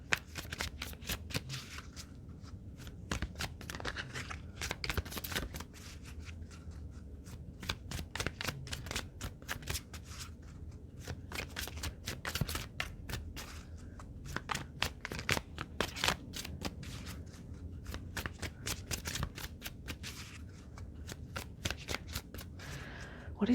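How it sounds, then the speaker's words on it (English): A deck of essential oil oracle cards is shuffled in a steady run of crisp, papery riffles and slaps lasting the whole stretch, close and fairly quiet with no talking. "Let's go to the Essential Oil Oracle cards by Lisa Powers"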